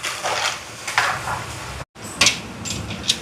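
A spoon scrapes and knocks against a pot while prawn curry with coconut milk is stirred, giving loud, irregular scraping and clinking strokes with a short gap in the middle.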